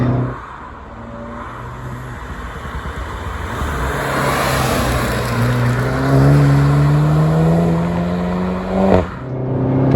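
A front-wheel-drive VW Golf GTI Clubsport S lapping the Nordschleife, its engine heard loud from inside, droning then climbing in pitch as it accelerates through the gears, with a brief shift-like break near the end.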